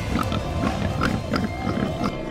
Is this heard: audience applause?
no